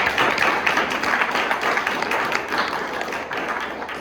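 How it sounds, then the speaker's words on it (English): Applause from the audience at a tech community workshop in Houston, continuous clapping from a modest crowd with individual claps audible, holding steady throughout. "give Sohel a big round of applause"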